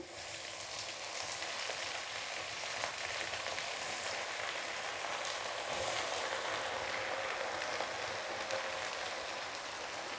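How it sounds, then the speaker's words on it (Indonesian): Tempeh frying in hot oil, a steady dense sizzle and crackle that holds evenly throughout with no voices. "kita masukkan tempe ya kita goreng tempenya"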